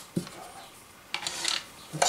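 The lid of a Lyman Gen6 electronic powder dispenser is set back in place with a few light plastic clicks and rubbing knocks, spaced out over a quiet background.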